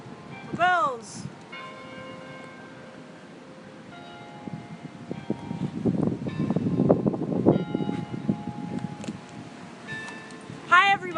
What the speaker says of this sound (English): As you can tell by the bells chiming, it's 5 o'clock.